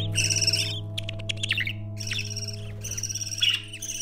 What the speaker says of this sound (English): Long-tailed parakeet.